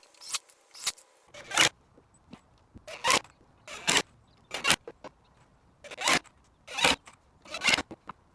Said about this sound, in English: screw in the hairpin legs at the corners of each piece of wood